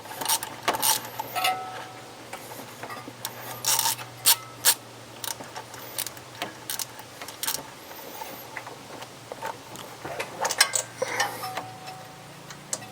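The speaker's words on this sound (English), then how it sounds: "Just took out your first spark plug." A spark plug is unscrewed by hand and pulled from a car engine. Small metallic clicks, ratcheting scrapes and clinks come in irregular bursts, close by and quiet, over a low steady hum.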